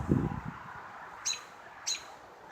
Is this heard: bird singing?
yes